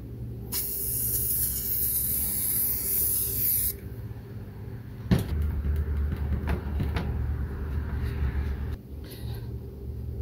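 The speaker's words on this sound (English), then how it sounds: "you're going to spray this side." A loud continuous aerosol spray hisses for about three seconds onto a 1968 Dodge Charger heater box seal, then stops; clattering handling noises and a few knocks follow.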